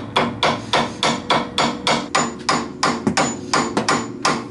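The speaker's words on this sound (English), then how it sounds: "Sometimes necessary to take a hammer and just tap it down a little bit." A hammer taps a ball stud down into a Ford Ranger control arm: about a dozen sharp metallic strikes land in a steady, even rhythm, close and loud, with no talking.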